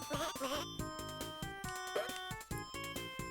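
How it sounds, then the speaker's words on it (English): A sheep bleats in the 1994 Mega Drive game Bubsy II: wavering, nasal bleats sound near the start and again partway through, over bouncy chiptune music with sharp rhythmic hits. "a sheep is on the other side bleating at you"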